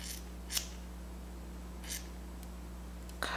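Scissors snip the ends of a kinky straight wig in three separate, crisp cuts spaced about a second apart, faint against a steady low electrical hum.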